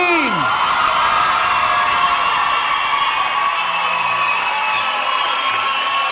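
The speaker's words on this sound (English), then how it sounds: "Big round of applause for the class of 2018." A graduation ceremony crowd cheers for the graduating class, a sustained wash of whoops, yells and shouting voices filling a large room, steady and loud throughout with no clear break.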